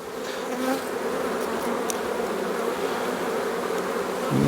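Honey bees buzz around an open hive in spring beside a field of oilseed rape, a dense, continuous drone from many insects, close and steady, with occasional higher passes from single bees.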